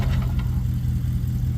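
An old Sears tractor engine runs close by with a rough, pulsing low rumble that stays steady and loud throughout the short stretch, with no talk over it.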